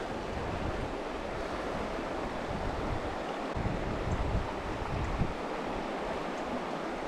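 Wind sweeps past a riverbank during fly fishing in the Adirondacks, a steady broadband rush buffeting the microphone with gusty low rumbles throughout, no voices.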